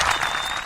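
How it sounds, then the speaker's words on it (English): A short burst of crowd applause, dense and even clapping that fills the whole moment without a break. "we always give him a round of applause"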